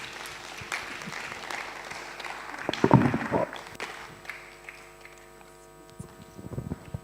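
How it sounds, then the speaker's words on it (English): Audience applause after a talk at a scientific health conference session, a moderate spread of clapping in a hall that swells near the middle and tapers off, with some room noise. "a round of applause for our speaker, Professor Moses."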